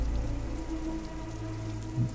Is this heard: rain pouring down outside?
yes